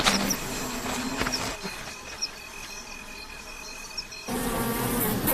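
A dense, steady hum of many bees buzzing together at a hive, fairly quiet and continuous, briefly swelling louder at the start and end.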